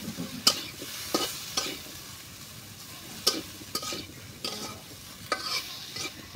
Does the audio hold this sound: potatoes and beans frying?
yes